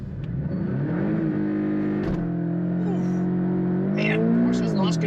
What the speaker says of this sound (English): Porsche's launch control is brutal.